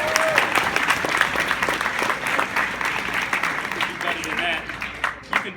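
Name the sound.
audience applauding the graduating class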